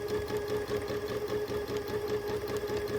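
A sewing machine stitching steadily during free motion quilting, its needle running in a fast even mechanical rhythm with a constant motor hum, close and continuous with no talk.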